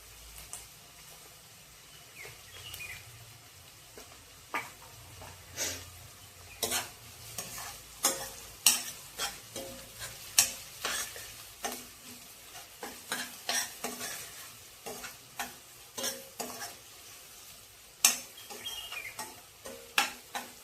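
Onion with turmeric and curry leaves is sautéed in a pan, giving a soft, quiet sizzle punctuated by frequent irregular scrapes and taps of a spatula stirring against the metal.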